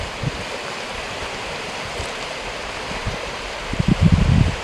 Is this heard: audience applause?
no